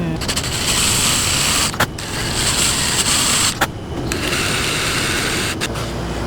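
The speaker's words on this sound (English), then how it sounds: "So I've got a 3/8 inch Forstner bit, and we're going to drill." A 3/8 inch Forstner bit bores into a wooden cross piece for a woodworking project, giving a loud, steady whirring grind near the mic that runs almost continuously with two or three short pauses.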